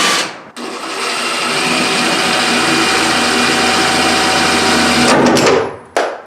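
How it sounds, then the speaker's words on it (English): Power drill boring a hole into fiberglass during shower bedding work, a loud steady whine running for about five seconds before stopping, followed by a short restart burst. "This drilled a hole right in the fiberglass."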